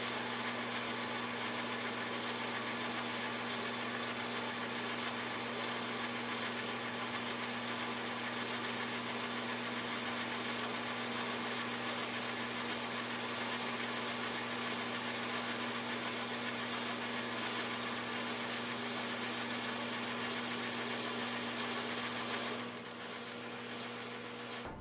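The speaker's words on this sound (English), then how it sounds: "This is a 100 thou pass, 50 thou depth of cut, which in steel is quite a lot for this little lathe." A small metal lathe turns steel saw pins under a steady mechanical hum with a constant high cutting hiss, continuous and close, easing slightly near the end.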